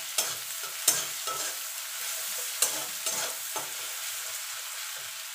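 Onions sizzle steadily in a hot pan with a pinch of salt, and the spatula stirs and scrapes against the metal at irregular intervals. The sound is close and continuous, with no talking.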